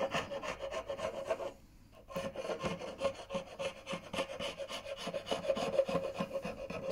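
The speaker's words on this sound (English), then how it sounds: "So we just turned it round and it's acting as a scraper." A Veritas drawknife, turned round and used as a scraper, rasps across rippled, ropey-grained oak in close, fairly quiet rhythmic strokes, with a brief pause partway through.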